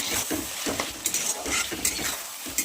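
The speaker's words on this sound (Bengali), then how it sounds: "দিয়ে ভালো করে কষাতে লাগবে" Chicken and mung dal being stirred in a pan with chili powder: quick, busy scraping and clinking of a spoon against the pan over a low sizzle, close up, with no voices.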